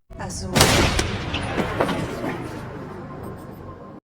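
A single loud gunshot goes off near the start of a film scene, followed by a fading rumble. A narrating voice talks over it.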